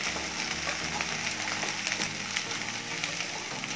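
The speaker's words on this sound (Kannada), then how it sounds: "5 ನಿಮಿಷ ಈ ರೀತಿ ಫ್ರೈ ಮಾಡಿಕೊಂಡ್ರೆ ಸಾಕು" Okra (bhindi, lady's finger) frying in a pan for a masala curry, giving a steady, close sizzle that runs without a break and has faint stirring scrapes through it.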